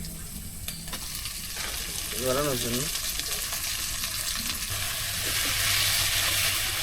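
Taro leaves and shrimp frying together in a pan give a steady, close sizzle with occasional stirring scrapes, while a voice speaks briefly over the cooking.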